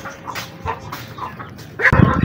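Chickens in a mini zoo enclosure giving short clucks and squawks, several close calls in quick succession ending in a louder burst.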